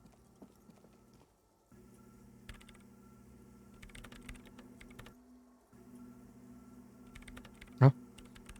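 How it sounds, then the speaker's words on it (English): Steady typing on a computer keyboard in the video game Disco Elysium, soft and continuous over a low droning hum, broken by a short pause and ending with one sharp click. "Instantly starts typing."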